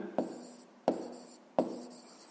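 Pen or chalk strokes as a fraction is written by hand during a fifth-grade maths lesson: three sharp, evenly spaced scratches, each fading quickly, close and fairly quiet with no talk.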